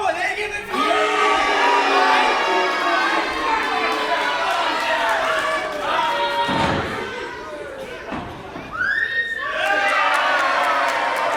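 A crowd at a St. Mary's wrestling event shouts and cheers in loud surges, with excited yells and chatter rising and falling around close commentary voices.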